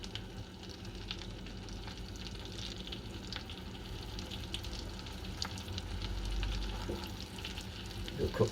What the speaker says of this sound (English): And we're just cooking them until they're brown, and then we'll turn them over.